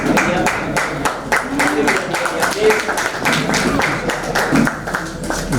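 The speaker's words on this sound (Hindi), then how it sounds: "तालियां बजा दीजिए।" Audience applause at a folk festival, the Prayag Lokrangotsav 2024, with dense, steady clapping from a crowd sustained throughout and a few voices mixed in.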